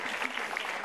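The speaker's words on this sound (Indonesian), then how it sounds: "Lagi dong tepuk tangannya." Audience applause at a stand-up comedy show, a dense steady wash of clapping across the whole stretch with no talk over it.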